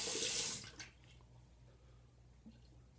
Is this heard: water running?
yes